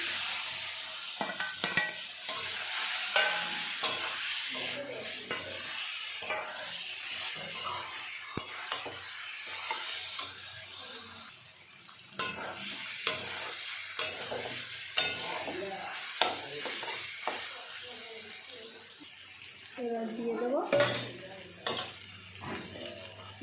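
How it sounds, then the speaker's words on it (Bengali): Fried potato pieces stirred into sizzling spice paste in a pan, the clink of a spatula scraping and turning repeatedly against the pan through steady frying noise, close by and with no talk. "মশলাটা ভাজা হয়ে গেছে এবার দিয়ে দেবো আলুগুলো"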